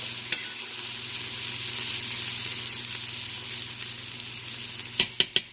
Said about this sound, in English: Give it a quick mix.